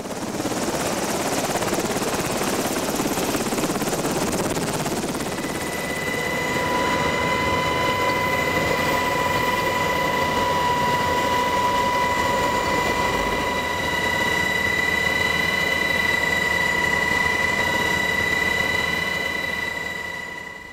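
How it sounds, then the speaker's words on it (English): A helicopter carrying patients out to the hospital ship USNS Comfort makes a loud, continuous rotor and engine roar, steady for the whole stretch with a whining tone emerging partway through. "one helicopter after another, transported three patients at a time out to the ship"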